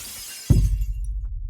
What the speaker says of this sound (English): Then I heard the glass in the guest bedroom shatter.